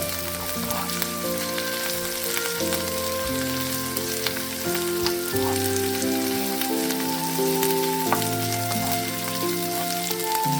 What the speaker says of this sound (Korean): 양배추를 볶아주세요